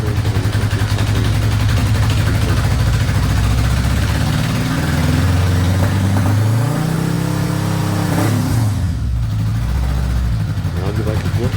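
A 1978 Goldwing motorcycle engine running after fuel tank work, a loud, steady, close mechanical drone with a shifting pitch that never stops across the whole stretch.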